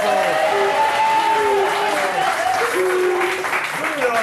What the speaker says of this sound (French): Applaudissez-les, donnez-leur la